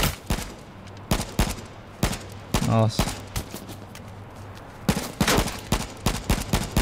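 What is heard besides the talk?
gunfire in the video game H1Z1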